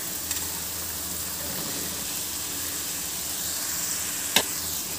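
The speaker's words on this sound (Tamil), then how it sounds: "நம்ம அடுத்ததாக காலிஃப்ளவரை சேர்த்துக்கலாம்." Cauliflower florets tipped into a hot pan of spiced, sautéed masala for a cauliflower fry, giving a steady soft sizzle and hiss throughout with a brief sharp clatter near the end.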